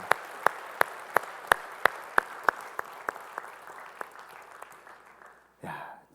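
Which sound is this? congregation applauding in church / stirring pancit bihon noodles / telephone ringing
congregation applauding in church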